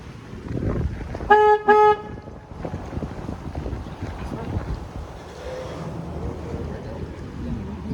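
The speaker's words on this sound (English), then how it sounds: "Now I'm going to honk my horn real quick" Two short tonal horn blasts from a river cruise boat on the San Antonio River, close and loud, over steady wind noise and water rumble.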